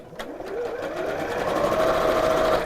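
A sewing machine stitches fabric pieces together into tubes with a quarter-inch seam, making a steady, close, rapid whirring hum that gradually speeds up, with no talk over it.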